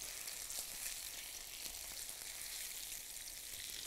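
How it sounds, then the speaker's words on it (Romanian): Chicken breast pieces brown in a Tefal pan with a dense, constant hiss of sizzling fat that stays steady and moderately loud, with faint pops and no talking. "Rumenesc carnea de pui pentru 3-4 minute pe fiecare parte sau cât să capete o culoare frumoasă"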